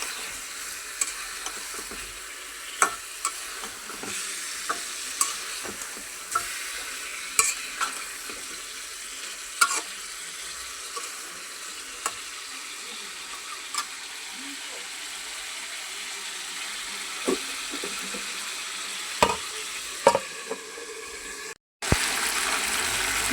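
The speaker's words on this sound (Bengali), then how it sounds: "ভালো করে আমি এখন কষাই নিব আলুটা আর মুরগির গোশটা।" Potato chunks and chicken pieces stir-fried in a pan give a steady sizzle, punctuated by repeated sharp scrapes and taps of a spatula against the metal.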